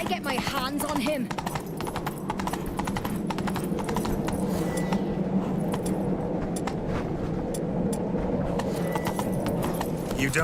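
Galloping horse hooves in The Witcher 3 video game, a steady rapid clatter running the whole time at close range with busy game sound effects layered over it.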